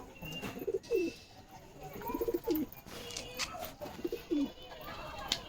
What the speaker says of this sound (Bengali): কিছু নতুন পায়রা আছে তো